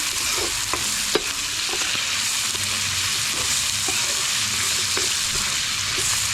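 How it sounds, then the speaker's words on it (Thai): Garlic and shallots stir-frying in a pan for a northern-style khanom chin dish, a steady close sizzle with occasional clicks of the utensil scraping and stirring throughout, no talking. "กระเทียมและหอมบัวลงไป ผัดให้หอมหอม"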